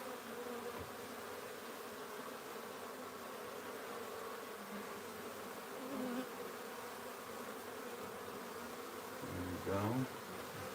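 Agitated wild bees buzz steadily and close throughout during a hive transfer, a dense continuous drone with a few brief louder swells near the end.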